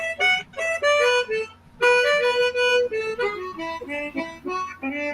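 A diatonic harmonica played in third position gives short, bright, reedy phrases with bends and pauses, close and alone with no talking.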